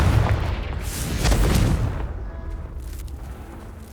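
In Hogwarts Legacy, a Confringo fire spell explodes as a deep, booming blast that swells and then fades into a rumbling tail, loud and close, with no talk.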